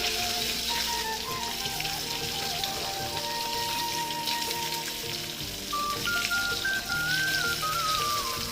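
Small puti fish fry in a pan with a continuous hissing, crackling sizzle that stays fairly even throughout, with a faint whistling tone in the background.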